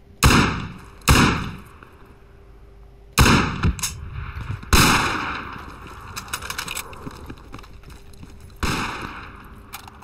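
Sniper rifle shots in Project Reality, a military video game set in Basrah: five sharp, loud reports spaced irregularly, each followed by a rolling echo and a steady low background hum.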